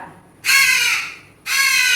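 Two loud, harsh crow caws close by, the first longer, the second starting after a short quiet gap.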